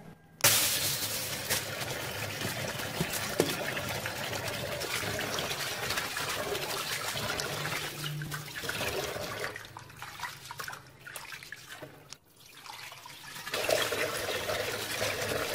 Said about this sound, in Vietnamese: Bây giờ mình sẽ đi vo nếp và ngâm nếp.